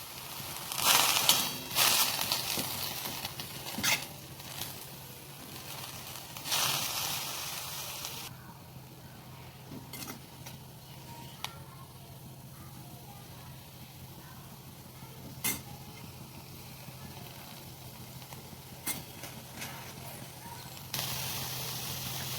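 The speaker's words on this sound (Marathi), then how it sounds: "भाजी छान तेलात परतवून घ्यायची आहे." Fenugreek leaves sautéing in oil in a pan crackle and hiss softly, with bursts of scraping and stirring noise breaking up quieter stretches of faint sizzle.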